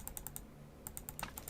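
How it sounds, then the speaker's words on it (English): Rapid clicking from a computer mouse, two quick bursts of sharp repeated clicks separated by a short pause, close and fairly quiet over a low steady hum, with no one talking. "I'm clicking on it repeatedly"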